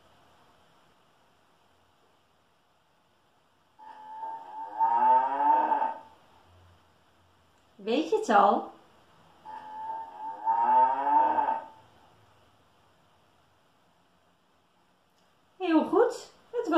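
A cow moos twice, each a long, loud, drawn-out low call separated by a pause, while a person speaks briefly between and after the calls.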